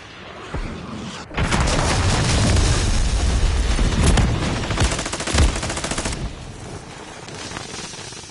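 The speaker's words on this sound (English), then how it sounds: "Friendly cruise missile deployed." A cruise missile blasts in a Modern Warfare 3 match, with a sharp crack followed by a long, loud roaring rumble mixed with rattling automatic gunfire that fades after several seconds.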